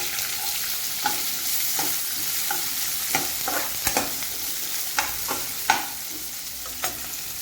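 Onion sizzles in hot oil with cumin seeds and curry leaves in a pan, a steady close frying hiss broken by repeated scraping stirs; no voices.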